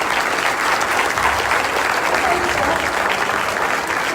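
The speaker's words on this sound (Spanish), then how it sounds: "Un aplauso, un aplauso." Dense crowd applause at a political rally in Colima, steady and loud throughout with no pauses, the clapping of many hands blending into a continuous wash.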